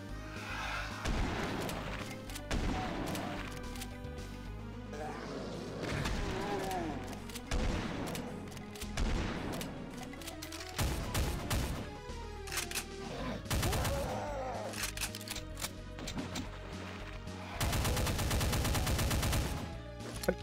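Gunfire in the shooter Doom 2, a long run of loud, repeated shots and booming blasts in irregular clusters, ending in a sustained rapid barrage, with game music underneath.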